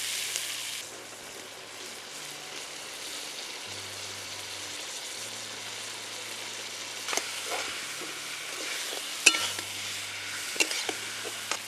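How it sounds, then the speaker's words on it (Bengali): Pre-fried potatoes land in a pan of hot oil for sour-spicy amra jhalda, and a steady, close sizzle follows, later broken by scattered spoon clinks and light stirring taps. "এবারে আমি ভেজে রাখা আলুগুলোকে দিয়ে দেবো।"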